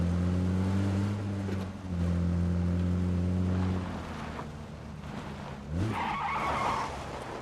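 A vehicle in the PUBG video game skids to a stop, with steady engine drone giving way to a brief screeching skid near the end, loud and close with no talk.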